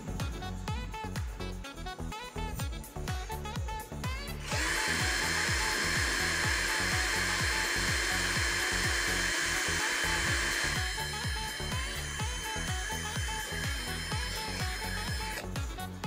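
An Edon LV3-1210 cordless drill revved up to its second speed setting, a steady high whine that jumps in after a few seconds and holds continuously, close and loud, with no talk.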